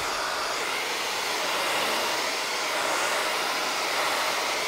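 A heat gun blows a steady, loud, continuous roar while warming adhesive on a carbon fiber grill for an Alfa Romeo Giulia Quadrifoglio, with no voices over it.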